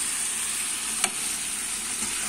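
A pan of dried fish curry with chili powder and turmeric sizzles steadily and loudly, with one brief clink partway through and no talk.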